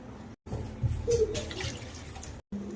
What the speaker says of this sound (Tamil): அதே கப்பில் ஒன்றரை கப் அளவு தண்ணி சேர்த்துக்கலாம்